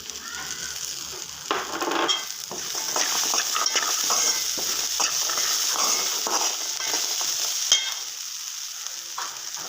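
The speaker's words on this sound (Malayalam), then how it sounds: "ഇതിലേക്ക് 2 അല്ലി വെളുത്തുള്ളി അരിഞ്ഞെടുത്തതാണ്, അതും കൂടെ ചേർത്ത് കൊടുക്കാം" Two cloves of chopped garlic fry in a pan for a rice curry, giving a steady, close sizzle with spatula scrapes and stirring clatter throughout. One sharper knock lands near the end, and no one speaks.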